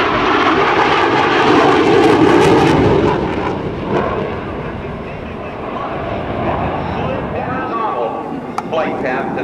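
An F/A-18C Hornet fighter jet flying a demonstration at the NAS Oceana airshow, a loud, broad jet roar that swells and slowly recedes, with an announcer speaking throughout.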